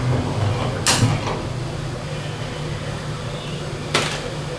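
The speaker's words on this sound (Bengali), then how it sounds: "কড়াই চাপিয়ে দিয়েছি আর গ্যাস অন করে দিয়েছি।" A gas stove is switched on under a wok to fry turmeric-and-salt-rubbed pomfret fish. Two sharp ignition clicks land about three seconds apart over a steady low kitchen hum.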